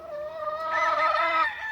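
A year-old gamefowl rooster crows close to the microphone in a single loud, drawn-out call, with a rising harmonic tone and no voices over it.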